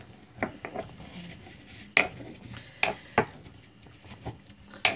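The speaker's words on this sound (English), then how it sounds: "All right, so I'm just going to give it a little stir." Utensil stirring an incense mixture in a dish, sparse scraping and sharp clinks against the container, a handful of separate knocks spread over a few seconds, close and fairly quiet.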